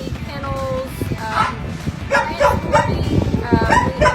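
Dogs at an animal shelter bark and yip in quick repeated bursts, loud and close, with some whimpering and voices mixed in among the barks.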